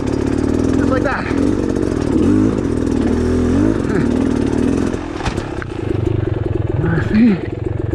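A dirt bike motorcycle rides off-road, its engine droning loud and close with rising and falling revs, some clattering, and brief wind or handling noise partway through.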